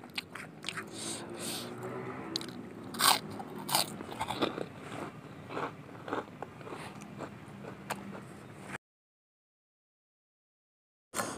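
Crunchy bites and chewing of karedok leunca, a raw vegetable salad with spicy sauce, come up close as irregular sharp crunches and wet chomps, then stop into silence.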